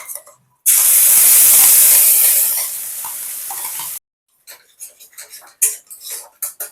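A spice paste goes into hot oil with black cumin and sets off a loud burst of sizzling that lasts about three seconds and then stops sharply. Scattered clinks and scrapes of stirring follow.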